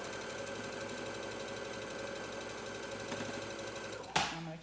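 A sewing machine stitches quilt fabric with a steady, fast mechanical whir and rhythmic needle clatter running throughout, ending in a short sharp clunk as it stops.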